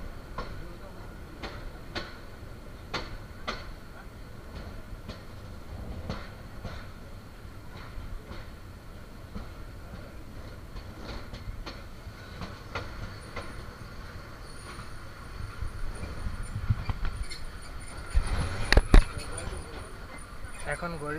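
The Mahanagar Godhuli passenger train pulls into Feni railway station in Bangladesh with a steady rumble and repeated wheel clicks over rail joints, squealing briefly near the end, while a voice talks over it.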